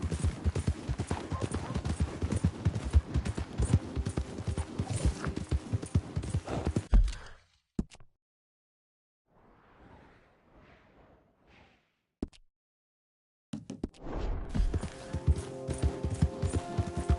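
Horse hooves clip-clop at a gallop in Red Dead Redemption 2, a steady rapid beat for about seven seconds, then near silence with faint rustling before the galloping resumes loudly near the end.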